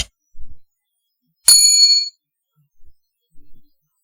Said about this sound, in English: don't forget to subscribe and hit that notification bell